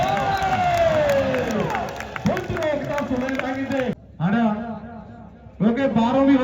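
A crowd at a match cheering and clapping loudly, a dense roar of voices and shouts with an announcer talking over it, briefly dropping before swelling again.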